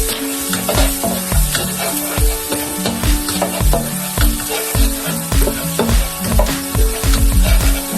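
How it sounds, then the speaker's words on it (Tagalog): Garlic sizzles loudly in hot oil in a pan for chicken liver adobo, with repeated scraping stirs of a spatula cutting through a steady, crackling fry close up. "Mainit na yung ating oil. Ngayon, ilalagay na natin yung ating gisa muna natin ang bawang."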